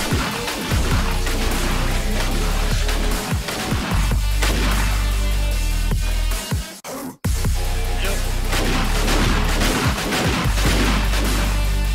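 A shotgun firing breaching rounds in 7 Days to Die Alpha 20, repeated loud heavy blasts spaced a second or so apart, with one abrupt cut of silence midway.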